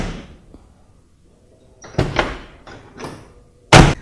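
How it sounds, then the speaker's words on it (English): Door of a 1967-1972 Chevy GMC truck with freshly installed press-on weatherstrip seal is pushed shut, a few soft creaks and bumps leading to a solid, loud slam at the end, no voices. "we're ready to close the door and test her out"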